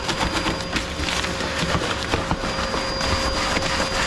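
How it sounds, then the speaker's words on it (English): A vacuum cleaner runs continuously, hoovering plastic dust sheets after a chimney sweep, a steady loud drone with scattered knocks and rattles from the nozzle moving across the sheets. "Vacuum off your plastic sheets."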